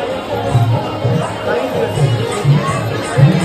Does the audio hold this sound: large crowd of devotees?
yes